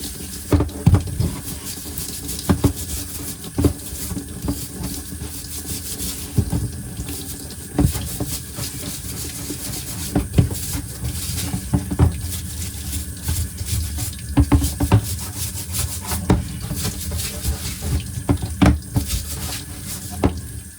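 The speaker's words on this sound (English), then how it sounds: "brush roll, you also want to give it a nice scrub. Get some soap on there." A vacuum cleaner brush roll from a Shark NV501 gets soaped and scrubbed under running tap water, a steady close splashing flow broken by repeated scrubbing knocks and rubs.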